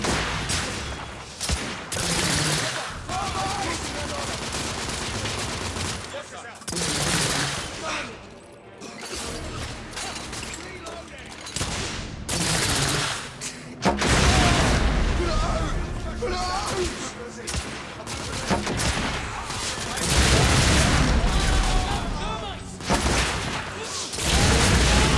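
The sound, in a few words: gunfire in video game The Order 1886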